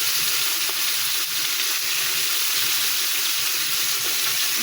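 Fish and sweet pumpkin pieces frying in oil in a pan, a loud, steady, dense sizzle that crackles continuously without pause, close up and with no voices.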